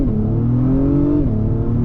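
A 2024 Acura TLX Type S launches hard from a brake-torque start, its engine note rising steadily and loud before a brief dip at the shift, close and without any talk.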